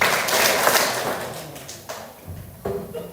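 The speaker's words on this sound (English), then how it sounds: "You guys can really hammer out that power clap." Students clapping for an award winner at an elementary school awards ceremony, a dense burst of applause that thins out and fades, with a few scattered sharp claps near the end.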